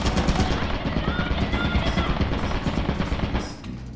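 Automatic gun turret in the video game Lethal Company firing rapid, continuous bursts of gunfire, loud and close, rattling steadily for several seconds before tapering off.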